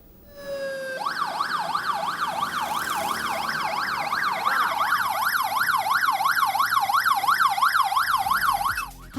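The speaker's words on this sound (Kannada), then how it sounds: "ಆಂಬ್ಯುಲೆನ್ಸ್ ಸೈರನ್ ಸೌಂಡ್ ಬರ್ತಾ ಇದೆಯಲ್ಲ ಅನ್ನೋ ಅಚ್ಚರಿನ" A siren on an ambulance bike in Bengaluru traffic, a loud electronic wail sweeping rapidly up and down in steady repeated cycles for about eight seconds, heard alone without talk, then cut off abruptly.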